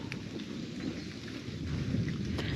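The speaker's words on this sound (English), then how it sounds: "I don't know if you could hear the thunder in the background." Low thunder rumbles on and off behind steady rain pattering on a surface, building slightly louder toward the end.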